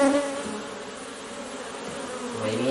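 Honey bees buzz around an open beehive, with a steady close hum that varies slightly in pitch and swells again at the end.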